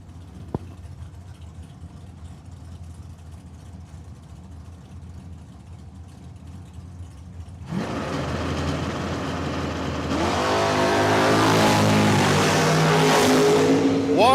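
Super Gas Corvette drag car based on a 1958 model, a distant low engine rumble that surges abruptly into a loud roar partway through and keeps building as the car launches and accelerates down the strip.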